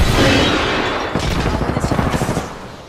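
A frag grenade goes off in Apex Legends with a heavy boom at the start that rolls and decays, followed by a quick run of sharp, rapid gunfire-like cracks in the game's combat.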